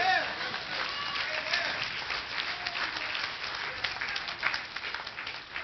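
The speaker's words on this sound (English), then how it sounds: "Somebody give the Lord a big hand clap." A church congregation claps for the Lord during a sermon on fasting and prayer, a continuous busy patter of many hands with a few louder accents and faint voices mixed in.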